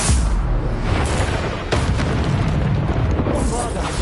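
Bombarda spell blasts in Hogwarts Legacy go off as heavy, rumbling booms with bursts of noise, loud and close, in a dense stretch of game combat with speech mixed in.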